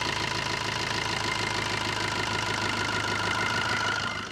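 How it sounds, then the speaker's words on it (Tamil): A used Tata Bolt with a Quadrajet diesel engine idles steadily nearby, a continuous even mechanical hum with a faint rhythmic knock running throughout, with no talk over it. "இன்ஜினோட நாய்ஸ் மட்டும் லைவாக கேளுங்களேன் எவ்வளோ நீட்டாக இருக்குது"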